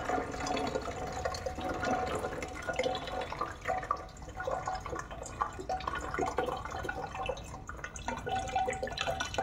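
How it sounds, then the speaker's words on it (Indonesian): Water from soaked banana peels poured into a sprayer bottle, a steady faint trickle and drip that runs throughout, close but quiet, with no talk. "Masukkan semua airnya."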